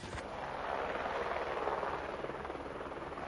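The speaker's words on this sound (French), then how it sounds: "Il y a un hélicoptère qui est en train de se poser." A helicopter's rotor thumps steadily as it lands in the mountains at Val d'Isère, a continuous rhythmic drone, moderately distant and fairly quiet.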